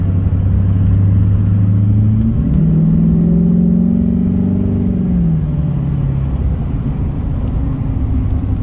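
A car engine is floored at full throttle, climbing from idle into a loud, sustained high-rev roar, holding briefly, then falling back toward idle, close and alone with no talk.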